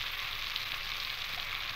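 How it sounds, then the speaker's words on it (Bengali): Prawns frying lightly in a pan, a steady close sizzle that holds evenly throughout with no talk. "একটু হালকা করে ভেজে নেব। ভাজা ভাজা হয়ে এসেছে"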